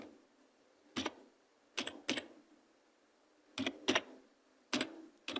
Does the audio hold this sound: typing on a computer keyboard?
yes